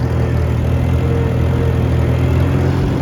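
Farmall C tractor engine running steadily at idle outdoors, a loud, continuous low chugging rumble with an even mechanical drone throughout, close by and alone.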